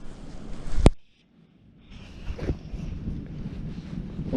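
Wind buffets the microphone beside a stillwater fishing lake, gusting in rough bursts with a sharp knock, then dropping away before rising again into steady blowing noise.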